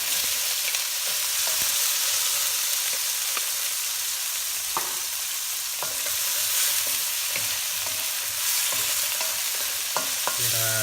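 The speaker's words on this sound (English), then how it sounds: "Let the onion cook for a few seconds here" Chopped onions fry over low heat in a pan for pancit bihon guisado, giving a continuous close sizzle broken by the light taps and scrapes of a stirring utensil.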